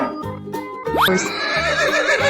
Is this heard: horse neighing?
yes